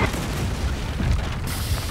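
Deep booming cannon blasts in the naval video game Blackwake roll through a continuous low rumble of battle noise, loud and close, with a brighter burst near the end.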